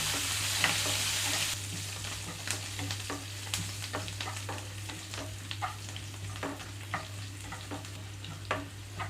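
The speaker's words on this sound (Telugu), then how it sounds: "పచ్చిశనగపప్పు కొంచెంగా కలర్ మారేటప్పుడే ఇందులోకి పచ్చిమిరపకాయలు వేస్తున్నాను. అలాగే కట్ చేసి పెట్టుకున్న వెల్లుల్లి కూడా." Green chillies and chopped garlic fry in hot oil with cashews and chana dal, giving a steady sizzle with frequent scraping and stirring clicks throughout, with no talk.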